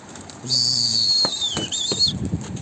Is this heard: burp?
no